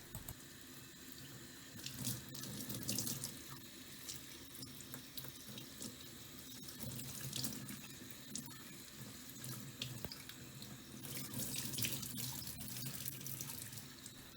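Tap water runs steadily over a Shark Stratos Pet Pro vacuum foam filter at a sink, a continuous splashing rinse with small surges as the filter is squeezed and moved under the stream, with no talking.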